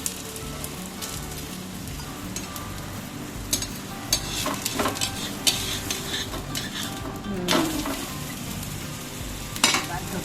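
Food sizzles in oil in a pan, a continuous crackling hiss broken by occasional scrapes and clinks of a utensil stirring, close and fairly quiet.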